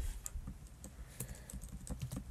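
Code being typed on a computer keyboard: rapid, irregular clicking keystrokes in quick bursts, soft and close, with no talking.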